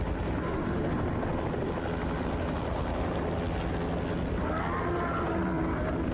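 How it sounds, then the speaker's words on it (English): A helicopter flying in during the video game The Thing, a loud steady rotor roar and thrum filling the whole stretch, heavy and continuous with a low droning tone, no talk over it. "But then a helicopter flies in."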